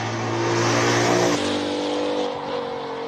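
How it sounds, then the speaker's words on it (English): A race car howls at high revs on a hill-climb course during a qualifying run, its engine note shifting sharply as it takes a corner, loud and close with no talk. "Lovely Miss Page taking a final right horn corner for the qualifying round number 2"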